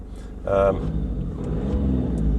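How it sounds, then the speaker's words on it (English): An Audi A2 TDI 90 diesel engine bursts into life with a short loud starter-and-catch flare, then settles into a lumpy, rattly idle rumble close by. "the first thing you know about it is when you start it, it kind of bursts into life"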